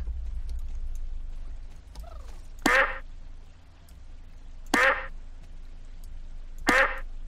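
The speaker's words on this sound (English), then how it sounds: "Carefully put the ducks in the fountain, one by one." Cartoonish duck quacks from the Star Stable video game, three loud separate bursts roughly two seconds apart over a low steady game background hum.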